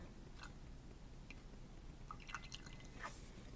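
Liquid is decanted off solid copper particles in a chemistry lab, heard as a few faint, scattered drips and small splashes over a steady background hiss.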